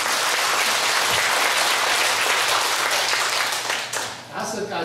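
Audience at a Buddhist talk breaking into loud sustained applause, a dense close wash of clapping that fades out toward the end.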